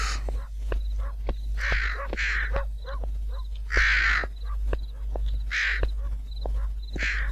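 Harsh raven caws in a video game repeat over a steady low hum, several birds calling in turn with rough, rasping croaks amid faint clicks.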